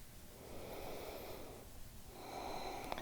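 Slow, soft breaths drawn in and let out through the nose during a yoga stretch, quiet and close, with a faint snort-like exhale and no talk.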